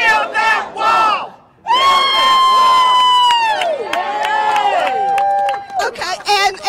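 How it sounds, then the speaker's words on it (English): A large political rally crowd roars and cheers, a dense sustained wave of shouting voices that swells and lingers with whistles and rising yells, loud and enveloping. "I was very surprised at this crowd"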